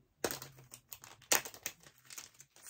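Gift wrapping paper crinkling and rustling as a wrapped present is opened, close and continuous, with sharp crackling bursts over a faint low hum.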